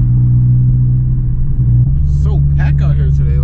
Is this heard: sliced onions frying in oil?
no